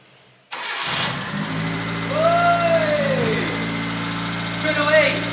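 A Satria car engine cranks and catches, then settles into a loud, steady idle close by, with a brief rise in revs partway through and again near the end.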